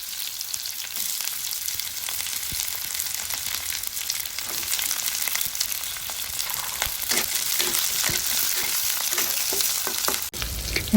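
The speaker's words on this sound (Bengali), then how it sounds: "এখন আমরা একটি কড়াইতে পরিমাণ মতো তেল দিয়ে তার মধ্যে কেটে রাখা পেঁয়াজ ও রসুন ভালোভাবে ভেজে নেব" Chopped onion and garlic fry in oil in a wok with a steady, close sizzle and occasional stirring scrapes. The texture stays bright and even throughout, with no voices.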